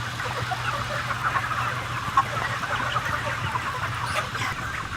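Tens of thousands of chickens crammed together in a factory farm shed, a dense, steady wash of clucking and murmuring with a low mechanical hum beneath and no voices.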